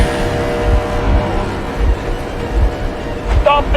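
A train rumbles past in the video game Metro Exodus, with a loud, steady low roar and rhythmic clacking thumps, while brief voice sounds rise near the end.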